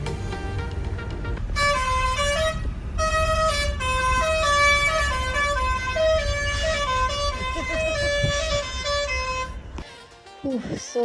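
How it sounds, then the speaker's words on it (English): Heavy traffic on the NH48 highway in India, with repeated car and truck horns honking in overlapping long and short blasts over a steady road rumble, fairly close and persistent, ending in a brief lull. "the traffic on NH48 is quite crazy"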